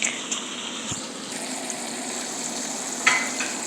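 Thinly sliced steak fries in a pan with a steady close sizzle and crackle, and a couple of faint knocks and a brief higher spit near the end.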